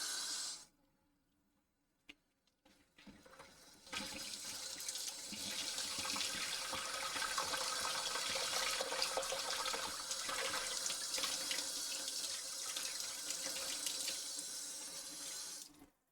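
A kitchen or bathroom tap runs steadily, the water loud and close for most of the stretch after a brief quiet start with a few small knocks, a home where the hot water supply has been shut off.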